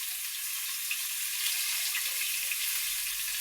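Pangas fish frying in hot oil, a steady close sizzle and crackle with tiny pops throughout, continuous and moderately loud, no voices.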